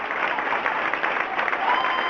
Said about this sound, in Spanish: Un gran aplauso para todos ellos.